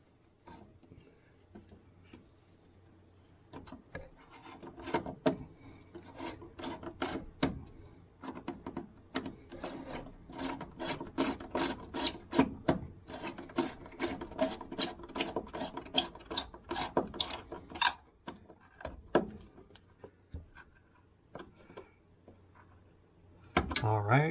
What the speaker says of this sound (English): Let's go ahead and put our clamp, tighten our clamp back down.